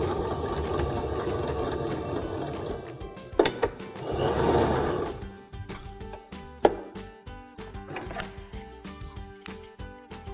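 A sewing machine runs in a steady close whir while back stitching fabric for a shirt-to-skirt upcycle, with a few sharp clunks and brief pauses as the stitching direction changes.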